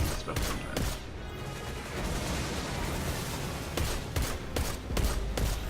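The Colony grenade launcher in Destiny 2 fires in a steady rhythm of sharp, punchy thumps. Dense explosions and mechanical clatter layer over constant loud combat noise.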